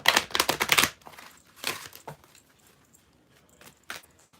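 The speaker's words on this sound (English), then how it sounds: "So let me go ahead and shuffle these, and then I'm going to pick a card for you from this deck." A deck of tarot cards being shuffled by hand, starting with a close, rapid burst of riffling card flicks. After that come a few softer, separate snaps and taps of cards being handled and set down, with no talking.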